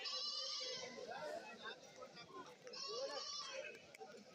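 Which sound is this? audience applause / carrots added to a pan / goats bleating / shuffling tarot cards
goats bleating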